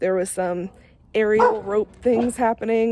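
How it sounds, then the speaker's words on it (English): Dogs bark in short repeated bursts close by, overlapping a person talking, with a brief quiet gap between volleys. "Sorry about my dogs."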